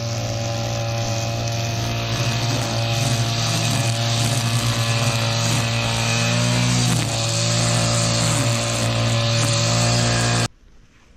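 A grass cutter running steadily while clearing plants in a home garden, its engine drone loud and close with a constant whine for about ten seconds before cutting off abruptly.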